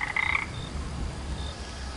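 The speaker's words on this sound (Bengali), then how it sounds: "আর তার সঙ্গে তাল মিলিয়ে কানে ভেসে আসছে ব্যাঙেদের গ্যাঙ্গর গ্যাঙ্গর আর" A frog gives a quick burst of rapid croaks near the start, then falls quiet under a soft, steady wash of rain during a rainy village night.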